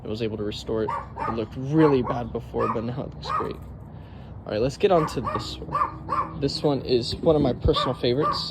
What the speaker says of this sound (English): Sorry for the dog in the background. He just doesn't know how to shut up.